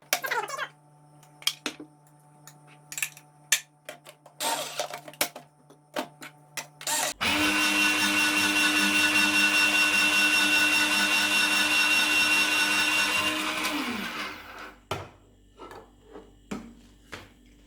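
A Silvercrest SGR 150 D1 electric grater slices potatoes with a steady, loud motor whir that lasts several seconds. Before and after it, scattered clicks and handling knocks are heard.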